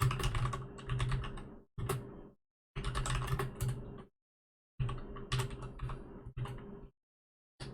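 Computer keyboard typing during a Minecraft Race For Wool match, quick rattling bursts of keystrokes separated by short silent pauses, close and fairly quiet, with no talking.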